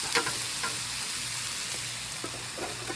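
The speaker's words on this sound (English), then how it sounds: "You can definitely hear it sizzling up right there." Chicken sizzling on a flat iron, a steady crackling hiss with small pops, close and fairly quiet, no voices.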